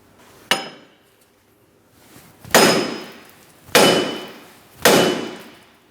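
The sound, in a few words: hammer tapping out a Cadillac CTS wheel bearing hub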